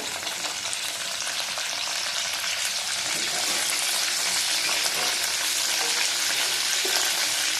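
Potatoes fry in hot oil with nigella seeds and asafoetida in a small wok, giving a loud, continuous close sizzle with faint crackles throughout and no talk.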